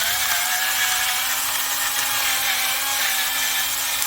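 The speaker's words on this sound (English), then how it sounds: "noisy pepper grinder again" A noisy pepper grinder crushing peppers for loaded tostadas, giving a continuous harsh grinding whir at steady loudness, close up.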